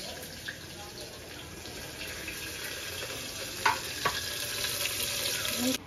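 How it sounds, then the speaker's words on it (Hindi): A steady hiss and sizzle of onions, garlic and green chillies frying in hot oil, with a few brief clinks and stirring sounds partway through. "तेल हो गया है गरम, मैं इसमें डाल रही हूँ प्याज"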